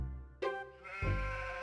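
Sheep in the video game Harvester bleating, two close, loud harmonic bleats in quick succession with a short pause between, no voices present.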